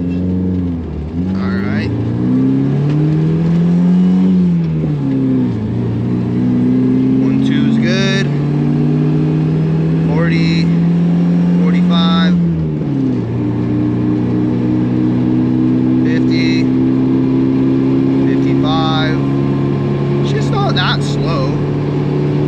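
A supercharged 3RZ engine in a vintage 4WD Toyota Sunrader pulls hard under acceleration, its loud drone climbing steadily and dropping twice at gear shifts before climbing again, with a voice occasionally heard over the engine.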